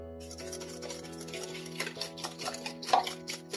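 Egg and sugar being beaten with milk in a bowl for homemade rustic cookies: quiet, rhythmic clicking and scraping strokes that grow slightly louder and quicker toward the end, with no talking.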